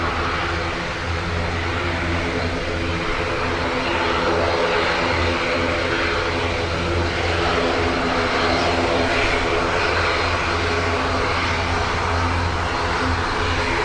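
Airliner taking off from runway 10 right at Dublin Airport in windy, wet weather, its engines a loud, steady, broadband roar held throughout without letup.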